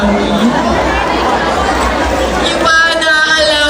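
Dense crowd noise at a Philippine pageant event, with a loud, continuous wash of audience cheering and clapping throughout, the noise of a packed hall rather than individual voices.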